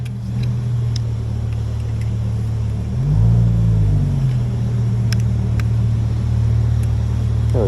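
The engine of a brand new Aperta car runs in a closed garage as a steady low rumble that swells briefly around the middle, with faint clicks over it and no talk.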